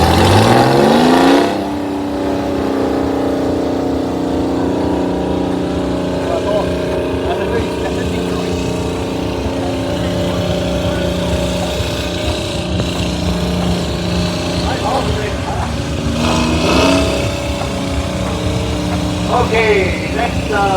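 A Detroit Diesel powered tractor rolls past in a parade of power at a historical engine show, its loud diesel drone and rising rev up close, with crowd noise and occasional voices underneath.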